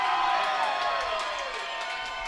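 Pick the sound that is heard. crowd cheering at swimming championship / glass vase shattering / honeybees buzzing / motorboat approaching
crowd cheering at swimming championship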